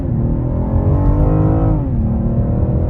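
A 2021 BMW M440xi pulls hard from a standstill to 60 mph, its engine note climbing steadily through the revs with a gear shift partway, loud and heard from inside the cabin.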